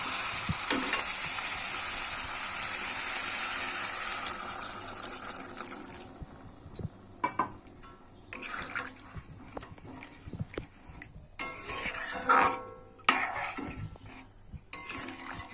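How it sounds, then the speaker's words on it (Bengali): Water is poured into a pan of frying spice paste and potatoes for a rupchand fish curry, turning the loud, steady sizzle into quieter bubbling with scattered clinks and scrapes of stirring. "এবার আমি জল দিয়ে দেবো।"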